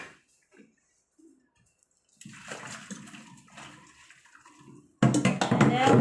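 Hot water poured out of a pot of chicken feet being cooked for a papaya soup: a steady, moderate splashing flow that turns into a loud, heavy gush near the end, with no talk.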